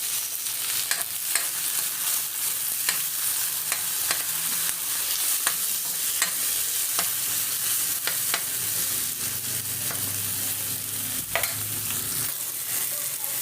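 Tomatoes stirred and frying with onions in a pan, with a steady sizzle and repeated scraping strokes of the utensil close by, and no talking.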